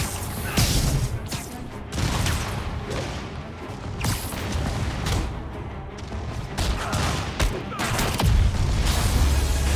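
Sustained gunfire, heavy impacts and explosive booms from combat in the Spider-Man Remastered video game, loud and dense with repeated bursts, crashes and thuds through the stretch, with some voices heard among them.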